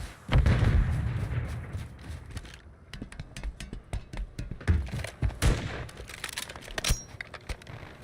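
Stun grenade going off in a Call of Duty Rebirth Island match, a loud burst followed by a run of sharp gunshots and clattering bangs of varying loudness, no talk.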